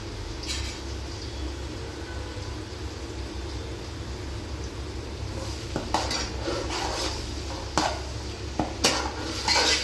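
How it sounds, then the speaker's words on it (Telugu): Onions, chillies and tomato stirred and fried in a pan for an Andhra-style fish curry, with quiet steady scraping, soft sizzle and a few sharp utensil clinks against the pan toward the end. "ఆనియన్స్ని, మిర్చిని, టమాటా మూడింటిని బాగా మిక్స్ చేసుకుంటాము"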